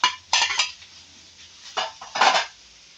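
Onion, kale, tomato and rice being stir-fried for egg fried rice, heard as a metal spatula clanking and scraping against the pan in a few quick bursts with quiet gaps between.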